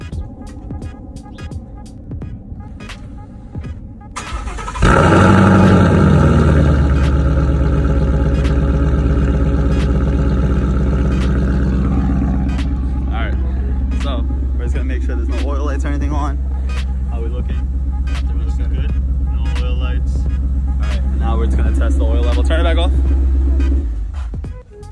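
A 2017 Ford Mustang GT V8 cranks and fires up with a loud burst, then settles into a steady, deep, throbbing idle that carries on close by for about twenty seconds.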